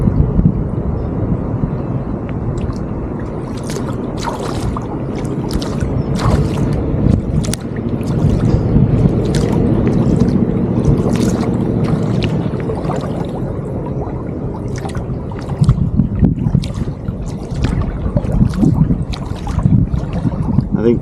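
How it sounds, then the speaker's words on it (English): Kayak paddles dip and splash in the water in an irregular rhythm, heard close against steady outdoor wind and rustling trees with heavy rumble on the microphone. "the only thing you can really hear is the wind, the trees, and me splashing"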